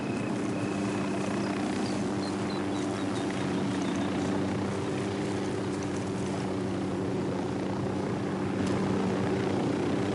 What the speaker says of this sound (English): Ahí va el puto helicóptero.